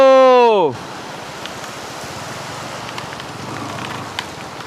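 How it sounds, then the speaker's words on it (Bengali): Heavy rain pours down in Bandarban, Bangladesh, a dense continuous hiss of falling water close by. It comes in right after a brief loud tonal sound and then holds steady with no talk. "প্রচুর বৃষ্টি ইস এদিক দিয়েও চলে আসছে রে বৃষ্টি"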